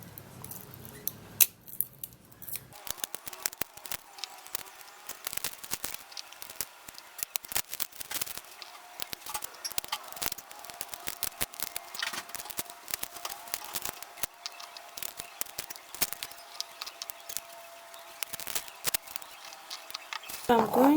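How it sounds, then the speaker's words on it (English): Garlic cloves are peeled by hand, with close, irregular crackling, snapping and rustling of dry papery skins that run on almost continuously throughout. "I'm actually going to be peeling all of this garlic so we can have enough of it to work with"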